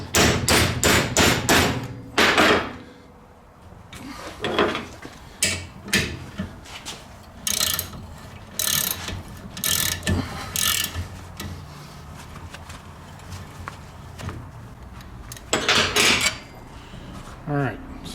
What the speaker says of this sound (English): I'm gonna see if I can get that nut off of there because I'm gonna have to repair this bracket.